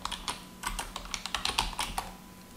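Keys on a computer keyboard tap out a short command in quick, uneven bursts, with a brief pause near the start. The clicks are close and clear against a quiet room.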